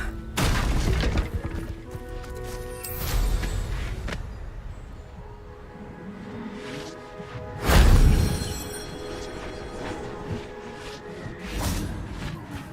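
Confringo fire spells in Hogwarts Legacy go off as several booming blasts with whooshes, the heaviest deep impact landing near the middle and others spaced a few seconds apart over quieter game ambience, no talk.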